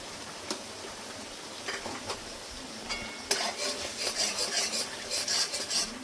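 A spoon scrapes and stirs spice paste frying with kasuri methi and a spoonful of yogurt in a pan, with a few scattered clinks at first, then steady close rasping strokes.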